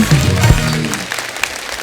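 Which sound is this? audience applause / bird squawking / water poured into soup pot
audience applause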